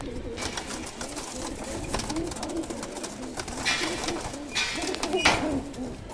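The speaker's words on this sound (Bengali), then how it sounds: "এই হচ্ছে একটা আর্মি কবুতর" An army pigeon, a female, cooing close by in a loft, soft repeated throaty coos in a slow rhythm against a faint background hum.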